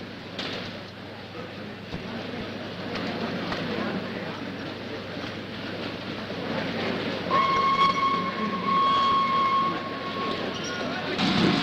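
Steady rumble of a moving passenger train heading toward Constantinople, with a sustained horn or whistle tone sounding partway through over the continuous rolling noise; a faint voice is present.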